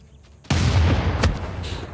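A cannon fires in the strategy game Civilization VI, a sudden loud boom that bursts in and rumbles on with a second crack partway through.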